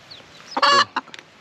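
A village chicken lets out one loud, close cluck with a short follow-up cackle, then a few quieter clucks trail off against a soft outdoor background.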